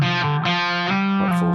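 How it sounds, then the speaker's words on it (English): An electric guitar played through a TC Electronic Cinders overdrive pedal rings out in sustained, fat, lightly driven chords, loud and close, with a brief pick scrape near the end and no voices. "We're not in distortion territory, but we've definitely got a bit of drive going on there."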